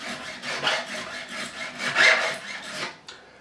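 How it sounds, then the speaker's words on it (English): A profiling file rasps back and forth along the frets of an Ibanez RG570 guitar during a fret leveling job, making a close, steady scraping in several even strokes with no voices. "get my profiling file, already got a groove, and this is going to remove any inconsistencies or any burrs that are left"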